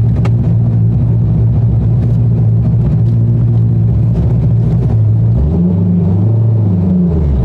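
Expensive car idling at a red light, its engine loping in an uneven, pulsing rumble, close and loud, with a deeper revving swell near the end.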